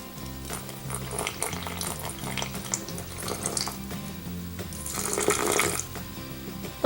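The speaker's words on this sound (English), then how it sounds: "what I need to do is add enough water to fill in the pores" Water is poured into a container of sand, producing a continuous trickling and gurgling. It swells into a louder splashing stream toward the end, with no speech.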